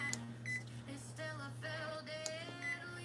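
Kitchen timer being set, a series of short electronic beeps and tones, some close together and one longer held tone, fairly faint over a steady low hum.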